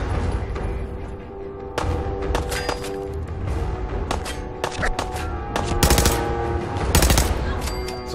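Improvised rifle gunfire in Fallout 4: repeated sharp shots and bursts crack out irregularly over a busy combat background, with several louder blasts toward the end.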